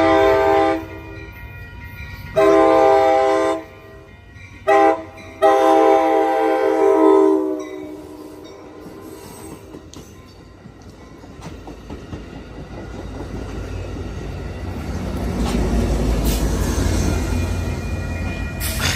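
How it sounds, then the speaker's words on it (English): Amtrak passenger train 724 with an F59PHI locomotive rumbles past close by at a railroad crossing in Oakland, California, sounding several long horn blasts before the roar of the cars and wheels fades and swells again. "This is Amtrak 724 going to Sacramento."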